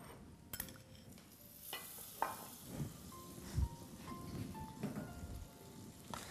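Butter and ghee melt slowly in a pan for maamoul, with faint, quiet crackles and soft spoon stirs and scrapes at a gentle, uneven pace, never reaching a boil.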